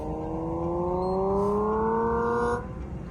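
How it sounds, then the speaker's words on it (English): An electric car plays a synthetic gasoline-engine drone, steady harmonic tones rising slightly in pitch as if revving, then cutting off abruptly near the end with no voices. "I could change a setting so that this EV sounds as though it's running on gas"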